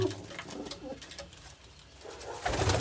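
Pigeons coo quietly nearby, soft low repeated calls with faint background rustle, growing slightly louder toward the end.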